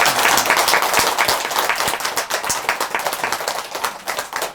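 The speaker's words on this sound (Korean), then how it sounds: "박수합니다." A crowd at a Buddhist temple service claps steadily, a dense, loud burst of applause with distinct individual claps that gradually thins toward the end.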